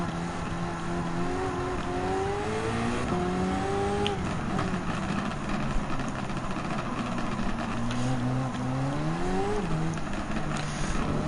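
A race car engine in Gran Turismo 7 during a Halloween weekly challenge revs loudly and continuously, pitch climbing and dropping through repeated gear changes over a constant roar, with no talking.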